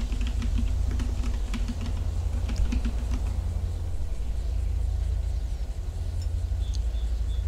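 Rapid typing on a PC keyboard with irregular bursts of clicky keystrokes over a low background rumble, close and fairly loud, with no speech.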